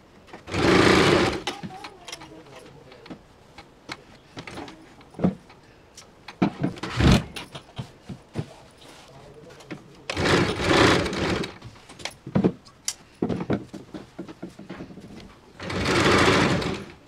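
A sewing machine stitches a half puff sleeve in several separate loud bursts, with quieter handling and pauses between the runs.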